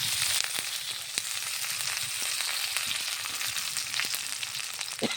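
Onions frying in hot oil in a wok (kadai), a steady close sizzle throughout with faint scattered clicks of stirring and no voices.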